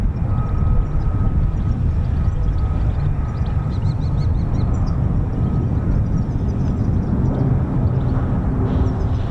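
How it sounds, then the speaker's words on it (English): A C-130 military transport aircraft passes overhead unseen above thick cloud, giving a loud, continuous low propeller drone that stays steady throughout. "we've got the C-130, but I can't see it at the minute"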